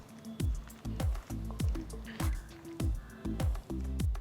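Chicken wings being mixed by hand with maida flour and cornflour, giving a steady series of soft, wet squishing and slapping sounds about every half second, close up with no talking.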